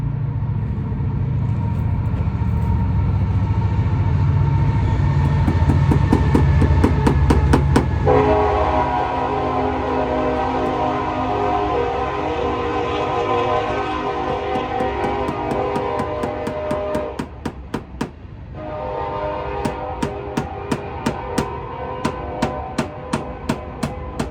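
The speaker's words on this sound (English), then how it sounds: "I hear a train coming, so if it gets kind of loud" A train rumbles past close by, its low roar giving way to a sustained horn and rhythmic clacking of wheels over rail joints.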